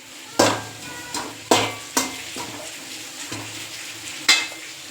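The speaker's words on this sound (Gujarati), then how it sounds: "વગર તેલે જો કોઈ આમાં એક પણ ટીપું તેલ નથી, ખાલી શેકીને જ મસાલો બનાવવાનો છે." Masala spices dry-roasting in a pan without oil, stirred with a utensil: a soft sizzle with several sharp scraping strokes and clinks against the pan at uneven intervals, close and fairly loud.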